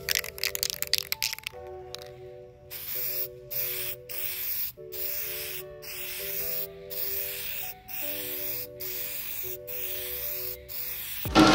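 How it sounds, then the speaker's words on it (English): A can sprays clear coat over a stencil on a wooden welcome sign in several separate hissing bursts, each lasting about a second, close and fairly quiet, with short pauses between them and no talk. "Now I'm gonna go throw a coat of clear coat on it."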